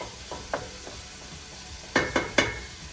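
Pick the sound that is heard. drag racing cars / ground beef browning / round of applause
ground beef browning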